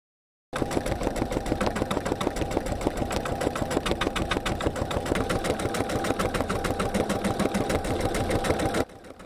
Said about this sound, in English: It is pretty neat to be able to just go in there and have a machine do your buttonholes